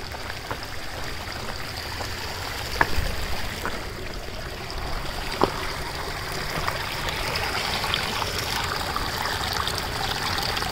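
Warm water from Terminal Geyser flowing and trickling along the trail, a steady close babble with occasional faint drips and no voices.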